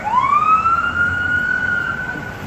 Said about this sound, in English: the vans and the cop cars, but that was that noise